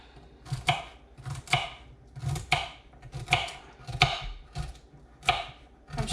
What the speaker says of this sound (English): So we're just gonna cut our celery.